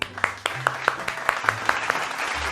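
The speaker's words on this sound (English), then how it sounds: "Clap your hands." Children in a kindergarten nursery class clap their hands together, a run of sharp, separate claps at an uneven rhythm over about two seconds, with a low hum beneath.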